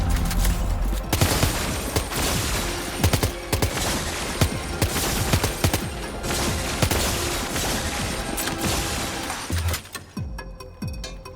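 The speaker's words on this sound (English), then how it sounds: "So those are very slow bullets" Sustained rapid gunfire of slow bullets in Death Stranding 2, loud continuous bursts of repeated shots lasting about ten seconds before cutting off abruptly.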